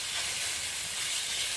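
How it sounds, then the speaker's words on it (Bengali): Onions fry in a little oil with a steady, dense sizzle and hiss, close and unbroken, with no voices. "তো এখানে সামান্য তেল দিয়ে পেঁয়াজটাকে ভেজে নিচ্ছি ভালো করে"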